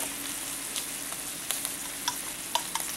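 Chicken broth hitting sizzling peppers in a hot pan, a steady close hiss of frying broken by a few sharp spatters and light pops.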